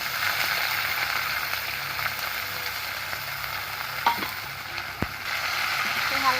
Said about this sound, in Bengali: তো হালকা করে পেঁয়াজগুলো আমি ভেজে নেব।